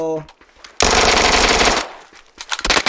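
A rapid automatic-weapon burst in PUBG, loud and close, rattling for about a second before trailing off into scattered softer noises.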